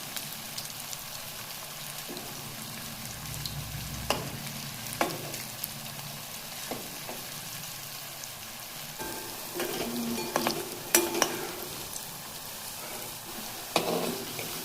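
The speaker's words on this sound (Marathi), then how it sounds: "त्यामुळे आपल्याला इथं बारीक गॅसवरच तळायचं आहे" Coriander vadi frying gently in oil over a low gas flame, a steady soft sizzle and crackle running throughout with occasional sharper pops and stirring clinks, moderately quiet and close, no voices.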